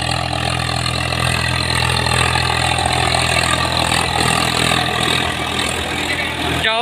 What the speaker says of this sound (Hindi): आवाज सुनो भाई ट्रैक्टर की।